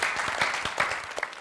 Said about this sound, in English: Round of applause. Yeah, well done.